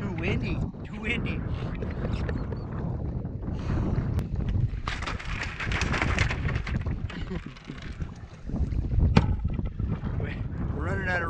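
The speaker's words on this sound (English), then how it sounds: "Nah, it's too windy. Too windy." Strong wind buffets a motorboat out on open water, a steady roaring rush over the microphone that lasts the whole time while several people talk close by.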